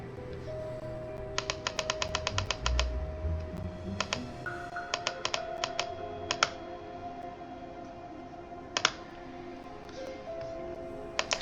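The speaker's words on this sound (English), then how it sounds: "I really hate this clicking mechanism." Clicking in a Nancy Drew computer game, heard as bursts of rapid, crisp mouse or key clicks separated by short pauses, fairly close over a soft background hiss.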